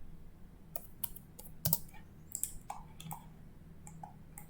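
Light, irregular clacking of computer keyboard keys while working in AutoCAD, a scattered run of soft individual strokes with a few sharper taps, close and quiet with no talk.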